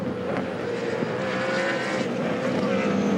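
V8 Supercars race cars at the Darwin Triple Crown in 2007, a steady, sustained engine roar with a touch of distance and no break in the noise.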